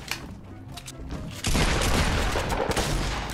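Dense, loud bursts of gunfire in the Fortnite video game erupt suddenly after a quieter stretch and keep going as a sustained barrage.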